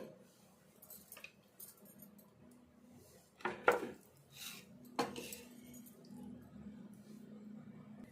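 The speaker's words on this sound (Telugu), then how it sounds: "ఈ పాలు పోసుకొని అంత ఒకసారి కలుపుకుందాము" Milk goes into a sweet mixture in a pan, followed by a few loud spoon-and-pan scrapes and clinks among quieter sloshing and stirring sounds, close by, with no talking.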